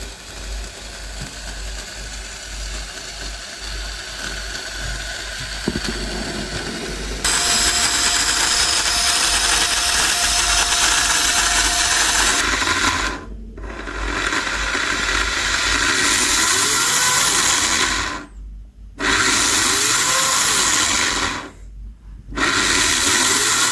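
A 1/24 scale AEG Sauber Mercedes C9 slot car motor runs during a final function test, a loud, steady whirring drone that changes pitch partway through and cuts out briefly three times before starting again.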